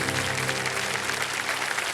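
Studio audience clapping on the Kaun Banega Crorepati game show set, a brief dense burst of applause over a sustained musical tone.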